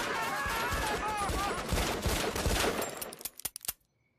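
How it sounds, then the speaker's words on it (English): In a cartoon, gunfire from several handguns, four Berettas, two Glocks and a Smith & Wesson with a double-stack magazine, makes a dense continuous barrage. It thins into a few last sharp shots and then stops abruptly. "All 88 shots have been fired."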